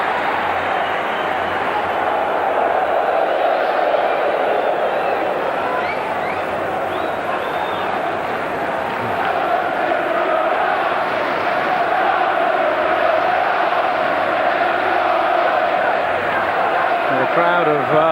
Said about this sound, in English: Crowd have livened up.